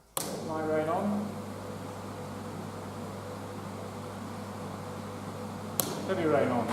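Light rain from a film rain-effects rig falling onto a hard plastic surface, a steady even hiss with a low mechanical hum underneath, starting abruptly and cutting off near the end.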